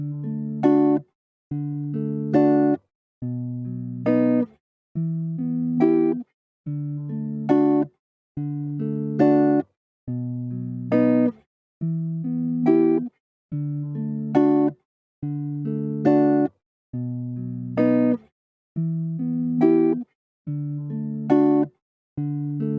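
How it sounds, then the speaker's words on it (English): An electric guitar played through a FET compressor sounds a repeating series of short, punchy strummed chords, evenly spaced with brief gaps between them, clean and alone with no voices. "On this same guitar, I can for instance load, in addition of the first one, a FET compressor to add its color and aggressive character."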